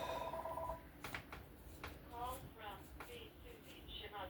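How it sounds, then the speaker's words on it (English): A house phone rings indoors during knife maintenance on a Divo Knives Mini Growler, a short electronic ring followed by faint chirps, with a voice talking over it. "Please excuse my phone."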